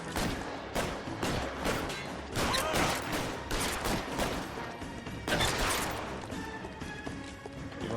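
Gunshots crack in L.A. Noire, a rapid series of sharp, loud reports in irregular clusters with echoing tails, mostly alone with little speech.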